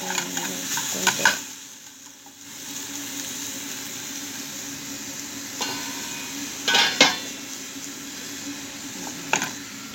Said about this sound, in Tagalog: Tingnan yung manok kumukulo, di ba?